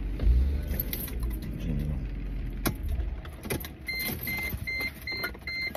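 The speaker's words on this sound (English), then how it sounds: "I don't even know the car was on." A car engine running with a low steady rumble, joined by jangling keys, clicks and repeated electronic chimes from the vehicle.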